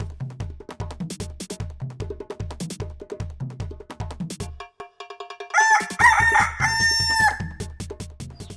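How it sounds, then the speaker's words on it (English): Kienyeji chickens on a farm: a steady run of clucking and low calls gives way to a rooster's loud, close crow with more crowing layered on top. "Kienyeji chicken are highly resistant."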